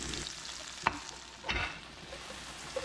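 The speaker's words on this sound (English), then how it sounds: "We're going to bring in our vegetables. Green peppers first. Next, the purple onions." Green peppers and purple onions fry in oil in a pan, giving a faint, steady background sizzle with a couple of soft clanks of stirring.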